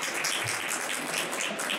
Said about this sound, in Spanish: queremos dar un aplauso por la organización que están haciendo con estos eventos